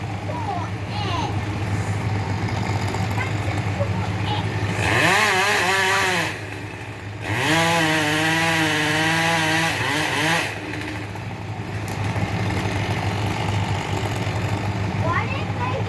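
A chainsaw run by tree loppers cuts into a tree, with a steady engine drone throughout that swells loudly in two bursts of higher revving. Voices talk over it.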